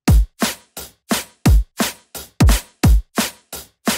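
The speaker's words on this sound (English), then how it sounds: "I'm just using four different drum sounds and it sounds like this" A jump-up drum and bass break built from four drum samples: punchy kicks with deep low thumps alternate with bright snare and hat hits in a fast, steady, syncopated pattern, loud and close with no voices.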